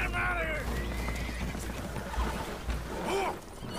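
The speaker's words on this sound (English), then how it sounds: "Horses are spooked, and we're taking on water." Spooked horses on a boat taking on water in the video game Red Dead Redemption II whinny loudly, one at the start and another near the end, over a constant low rumble of sloshing water and creaking.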